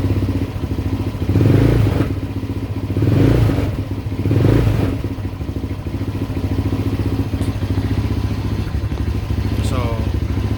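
A 2019 Tao Raptor 200cc ATV engine idles with a steady close putter, rising in three throttle blips to a louder rev before settling back, with brief speech over it.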